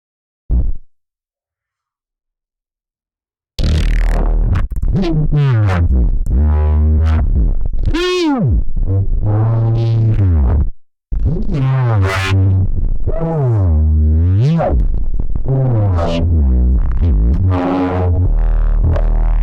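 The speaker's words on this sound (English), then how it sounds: "I made a neurobass in here" Neurobass patch built in Logic Pro for iPad: loud, gritty wobbling bass notes with sweeping growls and a descending pitch dive, playing continuously after a short silence.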